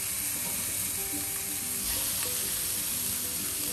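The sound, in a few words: oxtails searing in a preheated skillet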